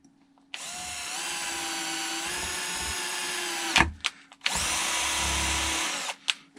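A power drill bores into metal with cutting fluid to clear the swarf, whining steadily at close range in two long runs separated by a brief pause.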